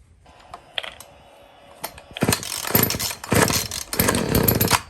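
A vintage Stihl two-stroke petrol engine bound for an RC boat sputters with a few isolated pops, then catches and runs in loud, ragged bursts of rattling revs close by.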